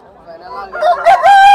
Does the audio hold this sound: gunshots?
no